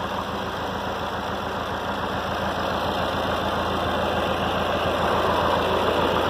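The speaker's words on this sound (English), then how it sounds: "So where the engine's at now is it's just idling." A Ford 8N tractor engine idles steadily and close by, a continuous low mechanical rumble with fine rapid pulsing and constant loudness and no voices.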